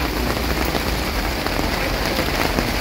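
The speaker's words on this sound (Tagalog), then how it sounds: "Ayan, umulan na naman." Steady, dense rain pours down outdoors, a loud unbroken hiss of drops striking surfaces with no pauses throughout.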